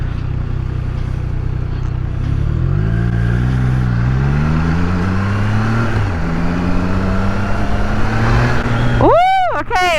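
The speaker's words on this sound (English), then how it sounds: "I just blipped the throttle" A Triumph Trident 660 motorcycle running loud and close, its engine note rising in a throttle blip before settling, then a sharp rev sweeping up in pitch near the end.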